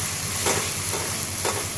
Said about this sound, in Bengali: দিয়ে মশলাটা কষবো যতক্ষণ না লাল মশলাটা কষা হয়ে তেলটা বেরিয়ে যায়